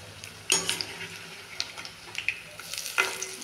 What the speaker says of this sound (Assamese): লৰাই দিলোঁ, উল্টাই দিলোঁ অলপ।